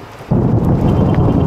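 Close thunder breaks during a heavy rainstorm on a farm, a sudden loud low rumble that hits sharply and rolls on over steady pouring rain.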